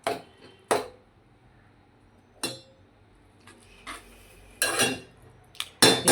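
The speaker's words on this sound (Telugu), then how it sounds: "సో పంచదార కరిగే వరకు కొంచెం ఇలా కలుపుకోండి." A utensil stirs sugar in a pan until it melts, making sharp metallic scrapes and clinks in separate strokes with quiet gaps, close and fairly loud.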